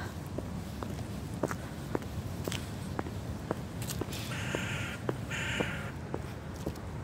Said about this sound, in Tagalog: ang mga tunog ng mga ibon